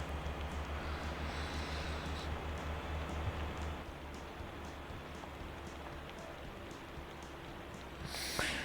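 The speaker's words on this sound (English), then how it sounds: "Yay, rain." Steady rain in the video game Motor Town hisses continuously, with a low droning hum underneath that drops away midway; a short bright rattle comes near the end.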